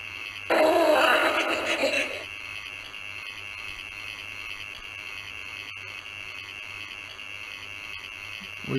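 A loud, rough mechanical growl from a Hasbro Ghostbusters Afterlife PKE Meter toy bursts out for about two seconds, then gives way to a quiet steady hum with a faint click near the end.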